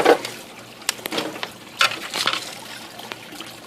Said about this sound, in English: See the dripping?